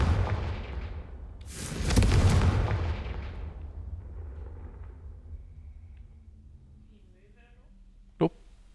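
A Confringo explosive spell in a Harry Potter game lands as one loud, booming blast that rumbles and fades over several seconds, followed later by a sharp, short crack.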